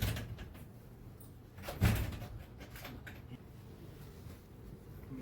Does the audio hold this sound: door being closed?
yes